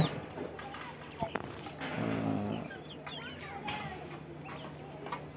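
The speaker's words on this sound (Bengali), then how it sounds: "এই দেশি মুরগির বাচ্চাগুলো আছে" Soft clucking and peeping of native chicken chicks and hens near the microphone, mixed with faint rustling and a person talking in the background.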